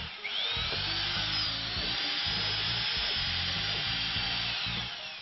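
A power drill bores guide holes into MDF panels for a woodworking box, a loud, close, high steady whine lasting several seconds with an uneven low chatter of the bit cutting into the board beneath.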